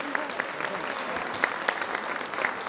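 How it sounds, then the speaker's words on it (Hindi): An audience at a Hindi poetry gathering applauds to welcome a poet onto the stage, a steady, moderately distant patter of many hands clapping with occasional sharper claps standing out. "तालियों से इनका स्वागत कीजिए।"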